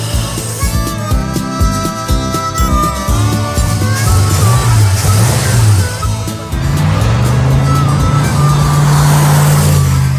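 A Ford muscle truck with a newly repaired fuel injection system drives under steady load, its engine a loud, close, continuous drone whose pitch rises as it accelerates and shifts midway.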